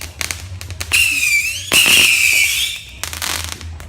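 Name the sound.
Saturn missile fireworks, 50 shots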